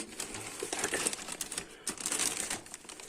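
A plastic bag from an online order crinkles and rustles up close in irregular bursts as it is handled and unpacked, with no one speaking.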